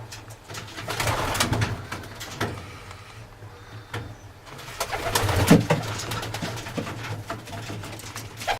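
Racing pigeons coo in a loft, several soft, low throaty calls overlapping at close range, with some rustling and a door-like slide in the background.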